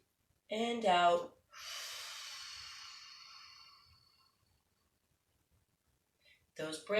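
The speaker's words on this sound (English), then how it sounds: "Breathing in and out." During kids' yoga, one long, airy breath out trails off for a couple of seconds between short bursts of a woman's spoken guidance, then silence.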